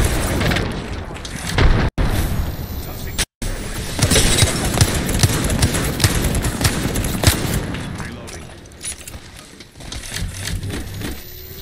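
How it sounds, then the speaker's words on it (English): A frag grenade explosion in Apex Legends amid a busy firefight, with dense booms and rapid gunfire crackling continuously, brief dropouts, and the action easing toward the end. "Throwing frag."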